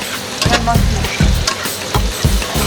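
Food sizzles and fries in a pan during home cooking, with loud repeated stirring scrapes and clatters at a steady rhythm, close and busy.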